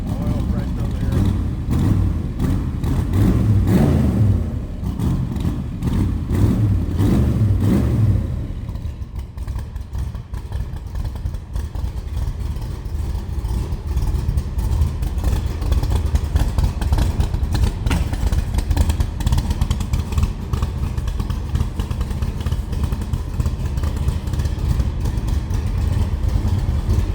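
1965 Shelby Cobra Backdraft replica idling just after a cold start: a loud, lumpy, rumbling idle for the first several seconds, then a lower, steady burble with clattery ticks that runs on to the end.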